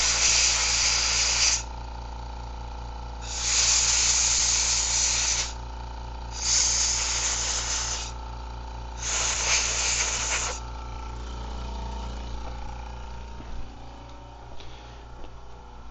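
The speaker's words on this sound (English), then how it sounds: "when you pull the trigger on the blowgun, you just see all that alcohol come off like in a mist" A compressed air blowgun blows alcohol off a tuned Ambassadeur 2500C fishing reel in four loud, hissing bursts of about one to two seconds each, separated by short pauses, followed by quieter background noise.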